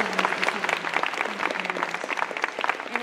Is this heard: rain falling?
no